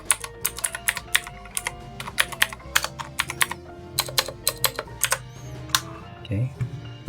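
Close, rapid typing rattles on a Fantech Atom63 mechanical keyboard, a fast uneven run of crisp clacky keystrokes with faint sound in the background.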